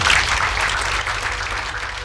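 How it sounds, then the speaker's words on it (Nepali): Guests at a Christian wedding clap loudly right after the couple is declared husband and wife, a dense burst of applause that fades slightly toward the end. "ताली बजाउनु।"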